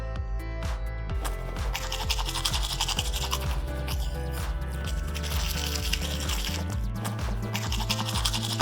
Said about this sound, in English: We use a toothbrush to brush our teeth.